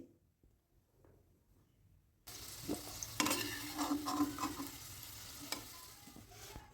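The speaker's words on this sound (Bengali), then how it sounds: "একদম লাল করে আমি ভেজে নিয়েছি এখন তেল থেকে তুলে নিচ্ছি" Fried potatoes are lifted out of hot oil after a quiet start, with oil suddenly bubbling and hissing up close as a spoon clinks and scrapes in the pan.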